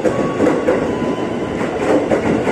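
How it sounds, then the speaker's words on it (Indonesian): A ten-car KRL commuter train bound for Jakarta Kota pulls into a busy station platform, a loud steady rumble of wheels and carriages close by, with no talk. "ini dia bakal segera masuk komuter lain tujuan Jakarta Kota"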